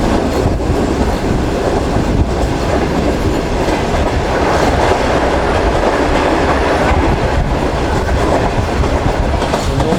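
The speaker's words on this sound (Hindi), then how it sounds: "हमारी ट्रेन निकल रही है" The Shalimar Express, running from Bahawalpur toward Karachi, pulls out and gathers speed, a loud, dense, continuous roar of wheels and carriages with steady clickety-clack heard from on board, no talking.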